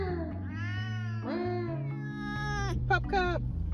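A talkative pet cat meows in long, drawn-out, wavering yowls, several in a row, close and fairly loud, rising into sharper cries near the end.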